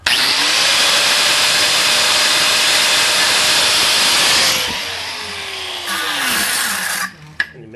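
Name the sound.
grinder cutting a slot in a bolt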